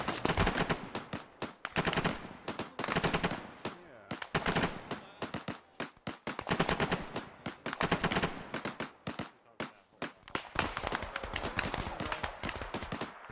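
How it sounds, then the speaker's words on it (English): Gunshots ring out in a co-op military game on a winter map, repeated sharp cracks and short rapid bursts arriving in irregular clusters, loud and close with brief lulls between volleys. "Still shots from southwest."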